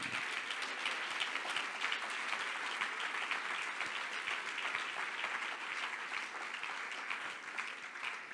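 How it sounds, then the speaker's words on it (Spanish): A church congregation applauds during a service, a continuous wash of clapping from many people, steady and fairly faint, lasting several seconds with no speech. "El aplauso al Señor."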